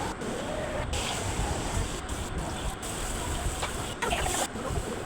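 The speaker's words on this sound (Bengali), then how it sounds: "তো এখন এক এক করে চিংড়ি মাছগুলোকে ভেজে নিতেছি" Prawns frying one batch at a time in a hot kadai, a steady broadband sizzle and crackle filling the clip with a few sharper spits and pops near the end.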